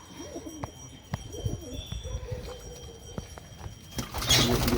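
Pigeons coo softly and repeatedly nearby in low, throaty phrases, with a few sharp taps and rustles between calls.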